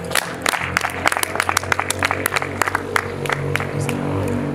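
Wedding guests clap for a speaker at a lively celebration. The applause is loud and close, with uneven bursts from many hands over a constant background murmur and low hum.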